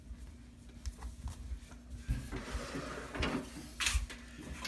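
A lower drawer on a GE JGS963SEK2SS gas oven slides open with a muffled scrape and a soft rattle across a couple of seconds, fairly close and quiet, with no talking.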